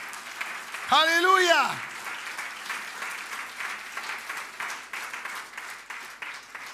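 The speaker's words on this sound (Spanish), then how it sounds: "Dale un aplauso a Cristo, el Señor." Church congregation applauding during a sermon; a brief sung or shouted exclamation rises over clapping near the start, then steady, moderately loud applause continues throughout with voices mixed in.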